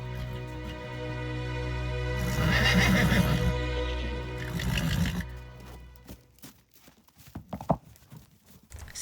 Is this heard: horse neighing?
yes